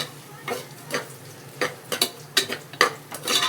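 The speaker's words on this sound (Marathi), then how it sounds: "हे टाकल्यानंतर परत मस्तपैकी मिक्स करून घ्या." A spoon stirs coriander powder and turmeric through a hot pan with repeated scraping, clattering strokes at an irregular rhythm, close and fairly loud, over a light sizzle.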